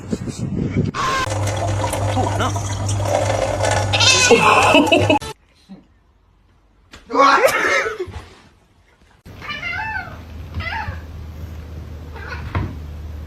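A cat meows a few times over background noise and a low hum, with people talking nearby between the cries.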